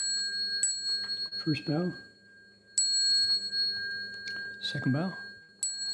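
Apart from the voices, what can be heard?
bell rung three times before bows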